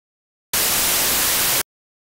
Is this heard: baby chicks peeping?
no